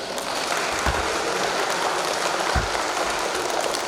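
Audience applause at an award ceremony for a youth futsal tournament, a continuous, rain-like wash of clapping at steady loudness, with a couple of low thumps beneath it.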